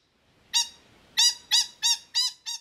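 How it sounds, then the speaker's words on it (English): Birds squawk outdoors in a run of six harsh, harmonic calls, one short call followed after a pause by five evenly spaced ones. The calls are fairly close and loud over a quiet background. "Even the birds seem to be agreeing with me today."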